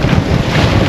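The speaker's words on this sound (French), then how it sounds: "Ça c'est le vent qui était prévu qui allait descendre du détroit de Messine." Strong wind buffets a sailing boat at sea off the Strait of Messina, a dense, close roar across the whole second with no let-up.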